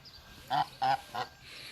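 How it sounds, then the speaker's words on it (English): An angry goose in a park gives three loud, close honks in quick succession, with nothing else competing. "There's an angry goose."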